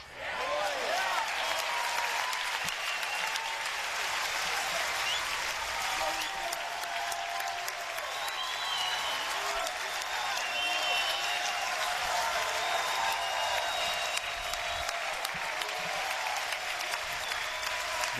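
Ole Miss fans cheer at Swayze Field during a 2018 NCAA baseball regional final against Tennessee Tech. A loud, steady roar of crowd noise and applause fills the whole stretch without letting up.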